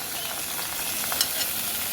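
Sweet pumpkin pieces frying and being stirred in an oil-filled wok, giving a continuous bright sizzle and hiss with faint scraping from the stirring, close by, with no voices.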